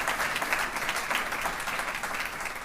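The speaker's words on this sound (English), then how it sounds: "big round of applause to the hundreds and thousands" Steady, dense applause from a large audience at a government telecom investment announcement, honouring Ericsson employees, a continuous close crackle of clapping.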